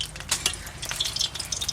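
Mutton frying in oil in a pan, with a soft continuous sizzle broken by irregular scraping and clinking stirs of a spoon against the pot, close by.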